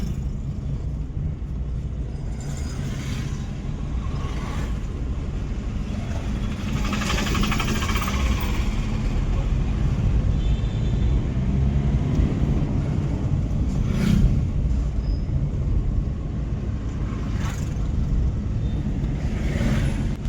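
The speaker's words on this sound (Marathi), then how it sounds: "जसं एक्सेलेटर वाढवलं तशी एकदम गाडी स्पीड पकडायला लागली" A Maruti Swift diesel car picks up speed on a test drive after a major service. A steady engine drone and road rumble fill the cabin and swell slightly as the car accelerates, with no talk.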